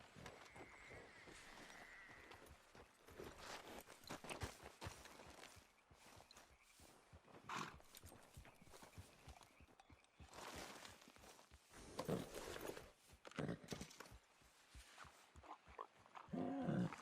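Horse hooves clip-clop steadily in Red Dead Redemption 2, a moderate rhythmic plodding mixed into busy outdoor game ambience and other movement noises, with no one speaking.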